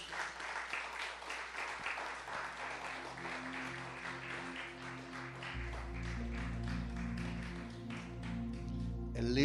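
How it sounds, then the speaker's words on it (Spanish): Applause from a church congregation for Jesus, a steady patter of many hands clapping at moderate distance, with organ or keyboard chords swelling underneath and growing louder toward the end. "Un aplauso fuerte a Jesús."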